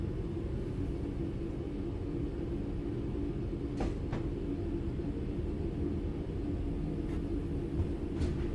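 A steady low rumble of a train coasting on level track in the video game Train Sim World 4, even and unchanging, with a few faint clicks over the drone.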